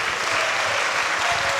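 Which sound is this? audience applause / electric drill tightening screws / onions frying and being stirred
audience applause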